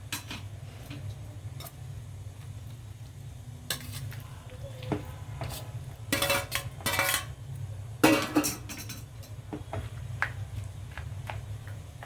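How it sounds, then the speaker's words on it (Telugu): Dry pasta tipped into a pan of curdled milk on the stove, making scattered clinks and rattles of metal cookware and utensils over a steady low hum, with a few louder clattering bursts and no voices. "ఇప్పుడు మనం పాస్తాలు ఇందులో వేసేద్దాం"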